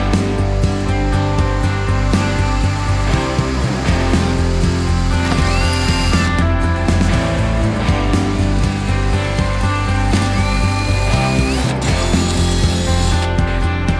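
A drill with a 5.2 mm bit bores holes while an engine cowling is fitted on a home-built aircraft, giving a steady, continuous grinding whir that runs unbroken for the whole stretch.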